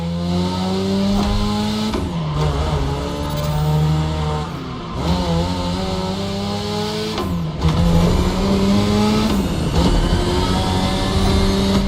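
Video game race cars drift through sharp turns, engines droning loudly and steadily with rising and falling pitch as they shift and rev, and tires squealing through the corners, with no talking over them.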